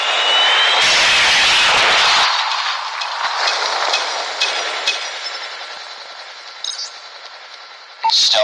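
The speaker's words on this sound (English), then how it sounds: "Friendly predator missile." A predator missile in Call of Duty Mobile gives off a loud jet-like roar that surges, then fades as it descends, ending in a sharp, loud hit.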